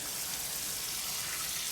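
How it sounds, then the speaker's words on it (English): Water pours and trickles steadily as a potted palm tree is watered in after repotting, a continuous close splashing hiss that runs unbroken with no voices. "Make sure the water's coming out the bottom of the pot."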